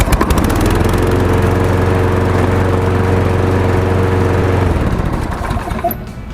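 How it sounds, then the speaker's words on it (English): A Toro Recycler lawn mower engine starts and roars loudly and steadily with a deep drone for several seconds, then cuts out and winds down. "And then we're going to give the lawnmower a start and see that the blade is working."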